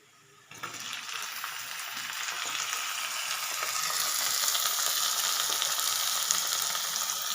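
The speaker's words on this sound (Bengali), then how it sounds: "এবার দিয়ে দেবো আমি টমেটো কুচিগুলো" Chopped tomatoes drop into onion and garlic frying in oil, setting off a sudden loud sizzle that swells into a steady, bright hiss of frying and holds to the end.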